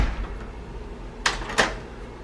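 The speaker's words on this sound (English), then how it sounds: "So you lock the door," Hotel room door being locked in a standard room at the Grand Memories resort in Varadero, Cuba: two short sharp clicks of the latch and lock, close and moderately loud, over a quiet room hum.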